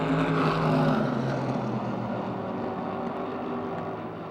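Race cars at Motordrome Speedway, one drifting high through turn four, make a dense, continuous engine roar that is loudest at the start and then holds steady. No voices are heard.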